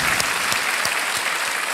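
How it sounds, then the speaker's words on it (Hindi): A studio audience on the TV quiz show Kaun Banega Crorepati claps loudly and continuously, a thick burst of applause with a few sharper claps standing out. "तालियों के साथ आपका अभिनंदन और धन्यवाद"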